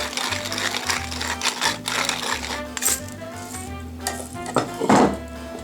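Fresh cracked pepper comes from a pepper mill in short, rhythmic grinding bursts, a repeated mechanical rasp close by, ending with a brief clink of kitchenware.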